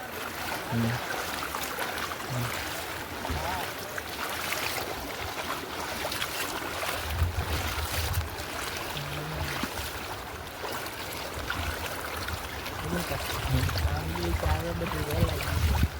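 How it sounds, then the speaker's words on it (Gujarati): Irrigation water rushes and gurgles continuously into a farm field at moderate loudness, a steady outdoor flow with occasional faint low sounds in the background. "હા જુઓ, પાણી ખેતરમાં જવા મળ્યું,"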